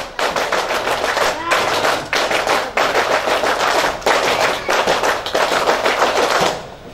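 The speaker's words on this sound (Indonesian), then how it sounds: "3 kali tepuk pramuka." Rhythmic group clapping from an audience doing the scout clap, a rapid patterned burst repeated three times, loud and close with brief pauses between rounds.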